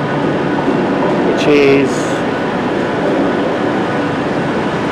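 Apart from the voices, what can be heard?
train arriving at the station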